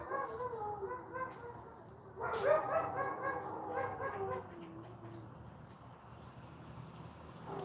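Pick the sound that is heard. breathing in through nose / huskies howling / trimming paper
huskies howling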